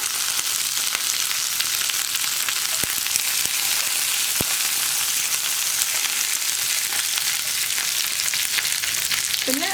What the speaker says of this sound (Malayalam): ഉള്ളി ചേർത്ത് ഒന്ന് കളർ ചേഞ്ചായി തുടങ്ങുമ്പോൾ നമ്മൾ 4 വറ്റൽമുളകും കൂടി ചേർത്ത് കൊടുക്കുന്നുണ്ട്